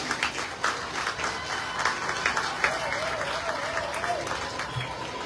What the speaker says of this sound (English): Let's give a round of applause to Serena Harris.